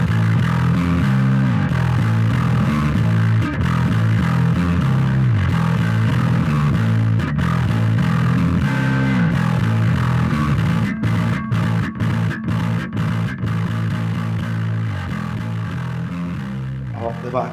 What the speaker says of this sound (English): I try to fill the sound out with distortion on the bass